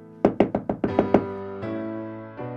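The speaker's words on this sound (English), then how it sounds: "Suddenly, the king heard a knock on the door." Someone knocks on a door on a stormy night, a quick run of about seven sharp raps close by, followed by a couple of lower resonant thuds.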